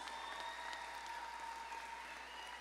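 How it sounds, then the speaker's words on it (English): Faint, steady applause from a graduation ceremony audience at a high school, heard distant and even throughout with a thin steady tone running beneath it. "give him a round of applause"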